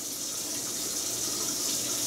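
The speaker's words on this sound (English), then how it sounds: "You could actually dump the water in before you put the loaf boat in." Water pours steadily into the pot of a Ninja Foodi pressure cooker, a soft continuous splashing stream, close and fairly quiet.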